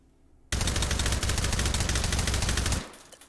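Suppressed AR-18 rifle with no stock firing a long rapid burst in the H3VR video game, a dense steady stream of shots lasting over two seconds, loud and close, with no talking.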